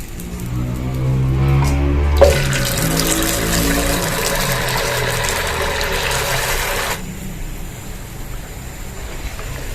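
Paniyaram fritters dropped into hot oil set off a loud, dense frying hiss that begins abruptly and holds steady for several seconds before cutting back, with a low hum beneath it throughout.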